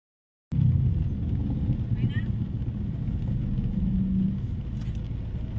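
Low engine rumble of a motorcycle and tricycle in a flooded area, starting abruptly and holding steady and fairly close, with faint voices briefly audible beneath it.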